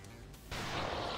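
A loud weapon shot from the game XCOM 2 cracks in suddenly after a brief low hum, its blast sustaining to the end.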